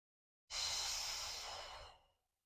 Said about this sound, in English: Take a deep inhale.